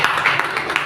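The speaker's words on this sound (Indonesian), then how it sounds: "Kasih tepuk tangan buat Tuhan Yesus Kristus." Congregation applause during an Indonesian church sermon about the Holy Spirit: a brief, dense burst of many hands clapping, steady and fairly loud.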